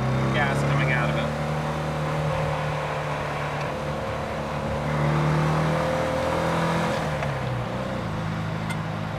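A 60-horsepower Porsche 356 B engine hums steadily under load while driving, with gear changes down to second and braking around a turn, shifting pitch as it pulls out of the corner; continuous and close throughout.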